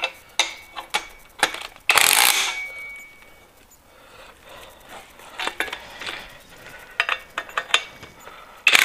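A ratchet wrench turns bolts on a Renault C1J engine being prepared, giving short bursts of close, crisp clicking with pauses, a loud metallic clatter and rustle near the start, and more ratcheting toward the end.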